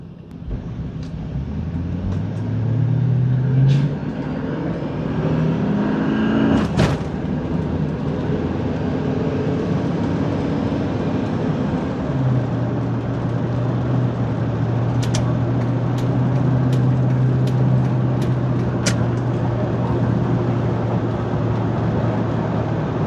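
A 2002 Cadillac Escalade driving on the road, with a steady low engine and road rumble throughout, a brief louder swell around the middle and a sustained drone later on.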